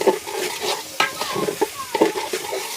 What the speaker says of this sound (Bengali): এবার ভালো করে চালগুলো ভেজে নেব।